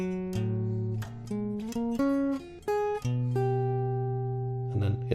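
Solo jazz guitar plays a melody over a walking bass line, with sustained chord tones and a steady low bass under the tune, clear and close with no talking.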